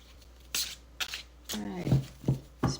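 Tarot cards being shuffled by hand, several short crisp riffling bursts separated by brief pauses, close up and fairly clear, with no talking.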